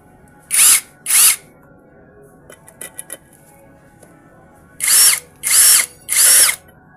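A Keelat cordless drill whirs in short high-pitched bursts: two quick runs, a pause with light clicks and handling, then three more bursts, close and loud.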